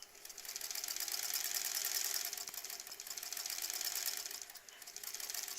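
A sewing machine stitches down the open seams of a small quilt block, a steady rapid mechanical whir running continuously with slight surges in speed.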